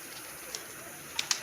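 Pigeons on a house rooftop, a few faint short calls over quiet outdoor background hiss, with a cluster of brief sharper sounds near the end.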